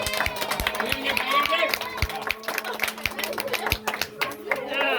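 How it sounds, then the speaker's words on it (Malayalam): A family applauds together at a 90th birthday celebration, with scattered, uneven claps rising through lively chatter and voices close by. "കൈയടിക്കാമോ?"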